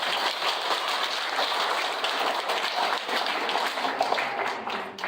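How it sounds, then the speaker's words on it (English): An audience at a Kargil Vijay Diwas presentation gives a sustained round of applause, a steady dense wash of many hands clapping at even loudness for several seconds. "And a big round of applause for those beautiful activities."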